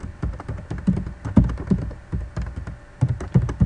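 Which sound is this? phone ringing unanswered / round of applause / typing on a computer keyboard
typing on a computer keyboard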